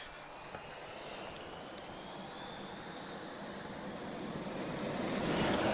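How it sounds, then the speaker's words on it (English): Wide-body jet airliners pushing back at Lisbon Airport, their engines a broad, steady roar with a rising whine that grows slowly louder toward the end, heard from a moderate distance. "look at all these heavies pushing back"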